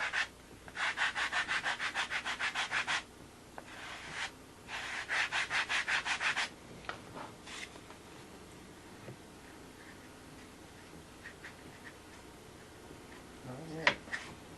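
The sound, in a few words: block sanding wood with a sanding block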